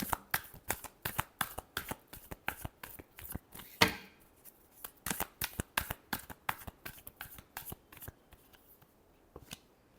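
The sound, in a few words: shuffling tarot cards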